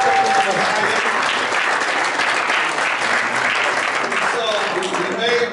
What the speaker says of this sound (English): Let's give our young ladies a round of applause.